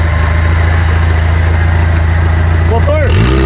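An off-road Jeep engine idles on a rough trail, a loud steady low rumble that dips and changes pitch near the end as revs shift, with voices over it.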